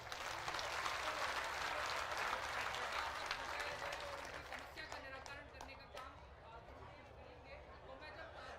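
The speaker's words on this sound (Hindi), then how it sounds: "हाथ उठा के बढ़िया ताली बजा दीजिए" Audience clapping at a religious darbar gathering, a dense broad wash of applause that fades somewhat over the final seconds, with a voice speaking over it.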